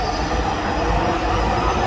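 Dhaka metro rail train running at speed, a loud, close, continuous roar with a steady high wheel squeal from inside the carriage.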